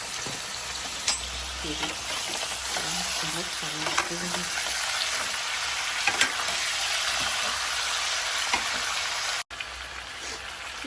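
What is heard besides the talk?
chicken frying with besan for biryani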